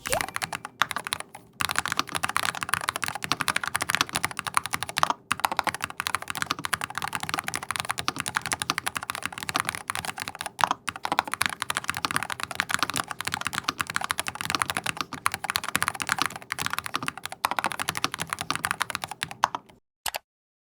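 Fast, continuous typing on a tenkeyless gaming keyboard, crisp close key clacks in a steady stream for about twenty seconds with only brief pauses, no voices.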